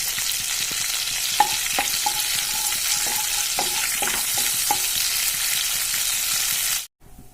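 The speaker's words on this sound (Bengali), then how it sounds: "এবার ওই তেলেই শুকনো লঙ্কা, গোটা গরম মশলা এবং সাদা জিরে ফোড়ন দিয়ে দিলাম।" Dried red chillies, whole garam masala and cumin seeds sizzle loudly in hot oil in a pan, with a constant fry and occasional crackles and stirring clinks, before the sound cuts off abruptly near the end.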